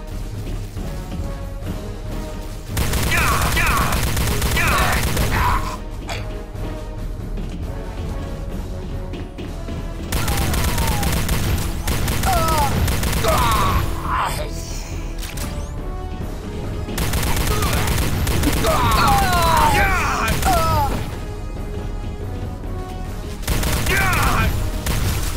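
Bursts of rapid weapon fire from the PC game Star Trek: Elite Force II come in loud sustained volleys separated by quieter stretches of game ambience, with a voice speaking in the gaps.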